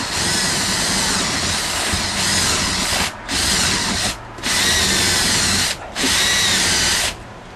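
Power drill driving a paddle bit through a wooden wall stud, loud and close, grinding in three long bursts with brief pauses between them as the bit bites into fresh wood.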